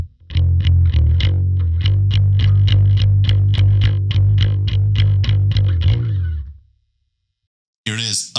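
A riff on electric bass with distortion and chorus effects, a gritty, pulsing run of repeated notes for about six seconds, followed by a short silence and a brief burst at the end.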